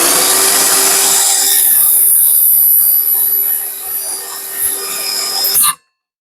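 Track saw cutting along the edge of a workbench board, a loud steady high whine that holds for several seconds, eases slightly as the blade runs through, then stops abruptly into silence.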